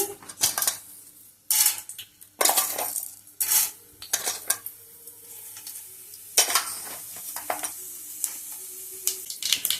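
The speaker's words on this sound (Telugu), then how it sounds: "ఆయిల్ వేడెక్కిన తర్వాత తాలింపు గింజలు వేసుకోవాలి" Tempering seeds tossed into hot oil in a pan, with several loud clattering bursts of metal spoon and pan contact and a crackling sizzle that carries on between them, close up and without speech.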